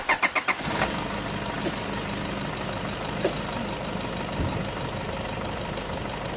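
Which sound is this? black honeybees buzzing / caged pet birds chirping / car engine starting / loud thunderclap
car engine starting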